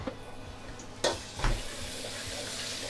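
Steady hiss of garlic frying in a hot pan for pad thai, with a couple of sharp clinks and a stir partway through.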